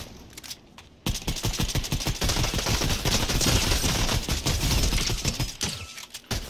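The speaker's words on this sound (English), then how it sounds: "At least our AR is silenced, right?" Silenced assault rifle in the Fortnite video game firing long, rapid bursts: a dense stream of close, muffled shots that starts abruptly after a quiet second and runs almost continuously, with game clatter mixed in.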